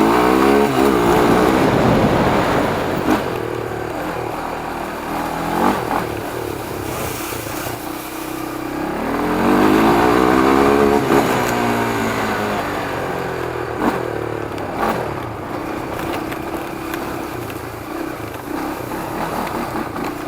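A motorcycle engine with a stock exhaust revs hard and repeatedly, surging up and falling back in loud waves. Between the rises it idles with a rough, steady rumble.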